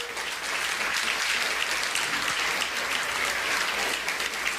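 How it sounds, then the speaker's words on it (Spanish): A church congregation breaks into loud, sustained applause during a worship celebration, a dense, even wash of clapping hands that fills the room for several seconds. "¿No le das un fuerte aplauso por esto al Señor?"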